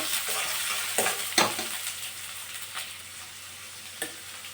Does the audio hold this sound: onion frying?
yes